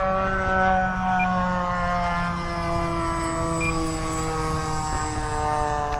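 Small E-flite UMX Timber radio-controlled electric plane making a low pass, its steady high-pitched motor whine with rich harmonics holding loud and close for the whole stretch, slight pitch shifts as it passes.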